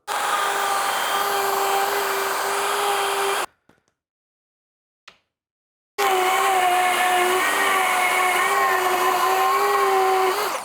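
Router mounted in a JessEm Rout-R-Lift II cutting a groove in a first and second pass, a loud steady high whine, then a few seconds of silence with a brief click before the whine resumes, no talking.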